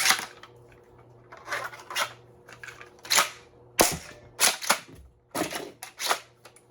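A 3D-printed Battle Axe Nerf shotgun fires shells in a rapid series of sharp, snappy pops, about a dozen shots at an uneven pace, close by with no talking.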